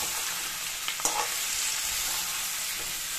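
Tomato, onion and ginger-garlic paste fry in a pan for a fish kalia with potatoes, making a continuous soft sizzle broken by a couple of brief stirring knocks, with no voices.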